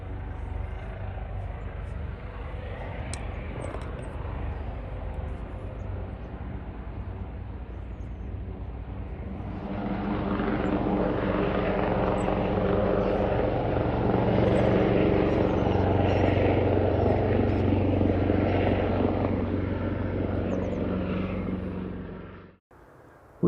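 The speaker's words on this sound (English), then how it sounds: "The only exciting bit that's happened so far is a couple of helicopters flying about" Helicopters, one apparently an air ambulance, flying over a carp fishing lake; a broad, steady rotor and engine rumble swells louder midway, holds, then cuts off abruptly near the end.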